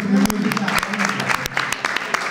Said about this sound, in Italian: Facciamo un applauso a questi ospiti.